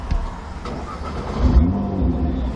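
Nissan GT-R engine revving at close range, a short throaty rise in pitch that swells midway and holds, heard alone without talk.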